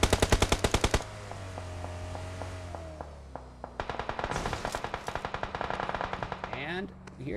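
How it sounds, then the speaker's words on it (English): Rapid bursts of automatic gunfire in the PUBG Mobile battle royale game, an opening close volley followed by quieter distant shots and then a longer run of rattling fire, with faint talk underneath. "And here's those shots in the distance."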